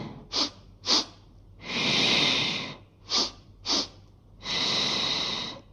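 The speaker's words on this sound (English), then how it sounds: "sniffing breath, you're going to sniff" A person breathes in a repeated Pilates breathing pattern: two short, sharp sniffs through the nose followed by a long exhale, done twice, close and clear.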